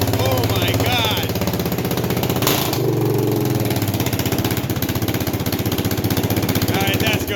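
A 2016 Yamaha Raptor 700R ATV runs loud and choppy with its exhaust silencer removed, a harsh, rapid, close-up thumping that holds steady throughout.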